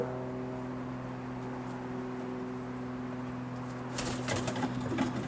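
Roller pigeons cooing inside a kit box loft, soft low murmuring coos with a burst of shuffling and rustling toward the end, heard close over a steady electrical hum.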